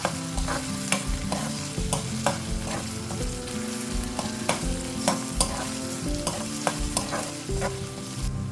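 A ginger, garlic and coriander paste fries with onions in oil, a steady crackling sizzle with repeated scrapes and taps of a spoon stirring in the pan.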